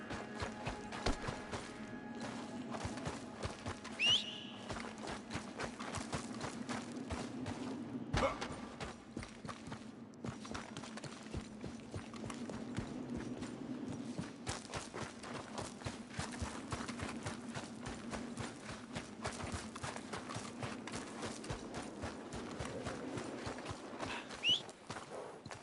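Horse hooves clip-clop in a PS4 video game as a steady stream of close, rhythmic hoofbeats continues over a low ambient hum.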